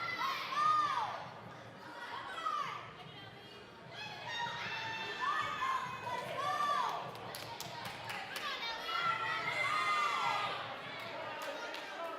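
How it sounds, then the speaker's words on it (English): Teammates at a women's NCAA gymnastics meet shout and cheer in repeated high-pitched bursts from close by over a busy gym backdrop of thuds and crowd murmur, with the cheers rising and falling across the stretch. "You can hear her teammates cheering her on, trying to keep her hyped so that she can get back on the bar"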